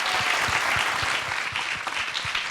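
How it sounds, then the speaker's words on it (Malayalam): A studio audience at a Malayalam TV show's 100th-episode celebration gives sustained applause. The clapping is thick and loud with a steady rhythm throughout, and no speech cuts in. "നല്ലൊരു കൈയടി കൊടുക്കാം."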